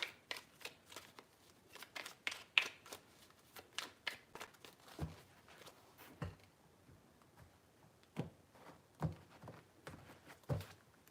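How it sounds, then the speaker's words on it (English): Tarot cards are shuffled nearby in quiet bursts of riffling and soft slaps, irregular and spaced out, with gentle tapping between them. "3 shuffles."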